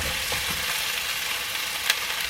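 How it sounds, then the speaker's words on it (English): Meatballs going back into a tomato sauce frying in a pan inside a caravan, a steady close sizzle with a faint stir and one small spike near the end, no talk. "Alright, I'm going to add back in the meatballs."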